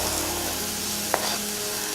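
Oil sizzling steadily in a cooking pot while preparing the seasoning for beans, a soft continuous fry hiss with one brief louder crackle near the middle.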